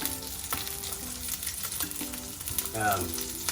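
Salmon frying skin-side down in oil in a pan, a steady close sizzle with crackles, alongside occasional clinks of a utensil and a brief louder burst near the end.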